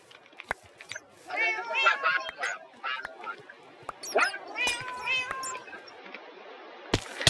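Cats meow repeatedly in a video game, with several short, bright cries clustered over a few seconds against a quiet background and scattered small clicks.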